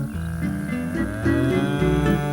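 Cattle on a meadow moo in long, deep, drawn-out calls, close and loud, with overlapping voices and no human speech.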